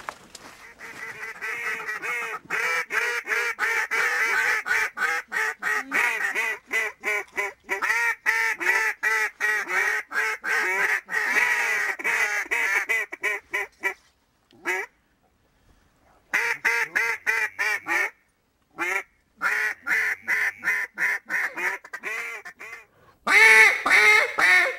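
A duck call is blown with a greeting call leading into a comeback call, sharp loud quacks repeating in quick rhythmic strings with brief gaps, close and with no voice over it.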